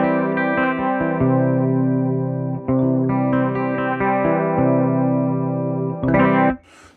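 An electric guitar is played through a Chase Bliss Warped Vinyl MK2 chorus pedal with the tone knob turned all the way up, giving warbling chorded phrases that are loud, steady and close, with no one talking.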